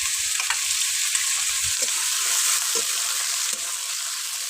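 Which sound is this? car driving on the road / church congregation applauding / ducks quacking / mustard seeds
mustard seeds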